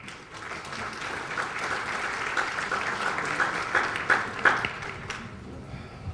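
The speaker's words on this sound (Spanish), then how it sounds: "Démosle un aplauso, por favor." An audience at an evaluation conference session applauds a speaker's introduction, a room full of clapping that swells with some sharper individual claps, then fades out near the end.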